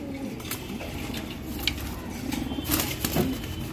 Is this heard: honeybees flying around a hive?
no